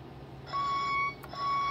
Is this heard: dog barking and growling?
no